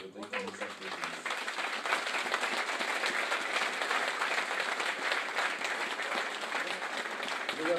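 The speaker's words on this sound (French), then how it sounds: "Et je voudrais que nous applaudissions." Applause from an audience at a New Year's address rises after a brief opening murmur and holds as a full, continuous patter of many hands, fairly even in loudness, with faint voices mixed underneath.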